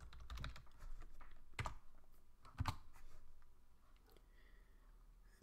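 Typing on a computer keyboard, a short burst of close, quiet key clicks in an irregular rhythm with a few louder taps, alone with no talking.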